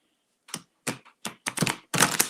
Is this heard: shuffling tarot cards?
yes